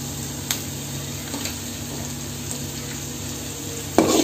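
Capsicum with salt is stirred in a frying pan, a soft continuous sizzle with a few spatula taps and a louder scrape toward the end, no one talking.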